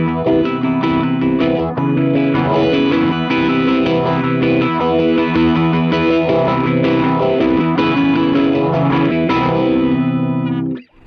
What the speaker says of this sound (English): Phaser and the 12 strings, it sounds like two guitars going battling head to head for sure.